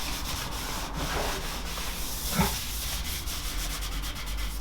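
A Honda CB250 scrambler fuel tank gets rubbed down with 240 grit sandpaper, a continuous close, dry scratching hiss with a slight swell midway.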